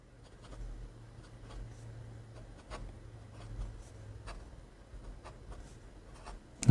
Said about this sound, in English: it is nice and smooth with only a smooth pencil type audible feedback and not much feedback at all from the nib